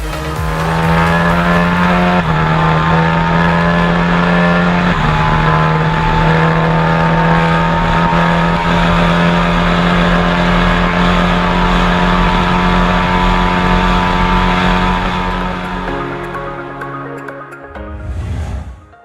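Loud, sustained high-revving engine of a Kawasaki Ninja ZX40R sport motorcycle, holding a steady pitch with brief gear-shift dips, then fading and dropping away near the end.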